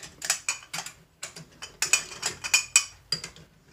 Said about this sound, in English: First we're gonna start off by taking off these lug nuts.